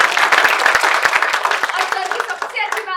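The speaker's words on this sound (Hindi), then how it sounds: "एक बार जोरदार तालियां।" Enthusiastic audience applause fills a theatre festival event, dense and steady clapping with a crowd voice or two rising near the end as it fades.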